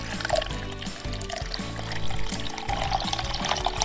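Milk is poured from a small carton while pancakes are made, a close, continuous gurgling pour that lasts several seconds with light handling noises.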